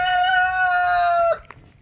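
A rooster crows loud and close in one long drawn-out call, followed by a few short clucks from chickens in a farm breeding area.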